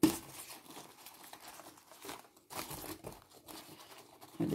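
Oracle cards being shuffled by hand close up, a continuous soft papery crinkling and riffling with brief pauses, fairly quiet and alone without speech.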